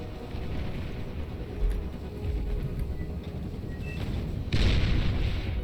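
Heavy artillery fire from the Tsar in the strategy game Beyond All Reason, a steady rumbling barrage of distant booms that swells into a louder, brighter blast near the end.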